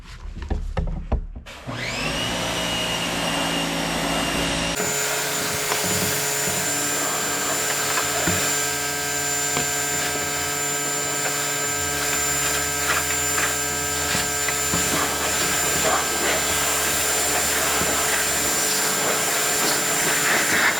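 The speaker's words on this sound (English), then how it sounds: "Now I'm gonna go and rinse that off" Rinsing a dirty car wheel and tire: a motor hum starts up, then a loud, continuous rushing spray takes over and runs steadily up close.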